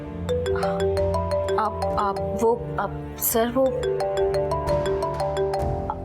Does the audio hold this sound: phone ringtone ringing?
yes